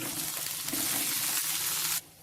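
Kaaram undrallu rice dumplings tipped into hot oil with a tempering of chopped chilli, curry leaves and asafoetida, a loud steady sizzle for two seconds that then drops away abruptly.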